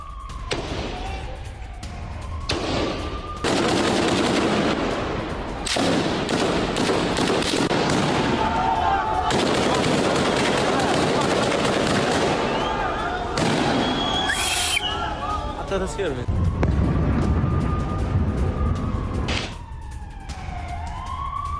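Chaotic street scene during an Israeli army operation in Jenin camp, West Bank: loud bangs and cracks of gunfire mixed with sirens, shouting crowds and rumbling traffic, dense and continuous throughout.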